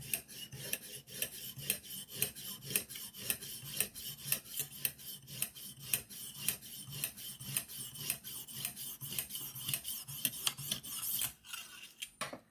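A Rough Ryder pocketknife is sharpened on a Lansky guided sharpening system with steady, rhythmic rasping strokes of the stone along the blade, close up and about two strokes a second, with no talk.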